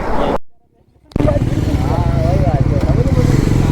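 A Bajaj NS400 motorcycle fitted with an SC Project exhaust cuts out briefly, then bursts back into a loud, close, raspy idle with a throbbing exhaust note and slight revving.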